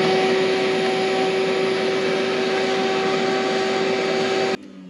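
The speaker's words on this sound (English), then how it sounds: "Ooh, we got a vacuum cleaner." A steady, loud motor whine with a constant hum runs without a break, then cuts off abruptly near the end, like a vacuum cleaner switched off.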